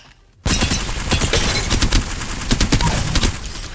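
Hellstar weapon firing in Apex Legends, a sustained loud barrage of rapid close shots starting abruptly after a brief quiet moment and continuing steadily to the end.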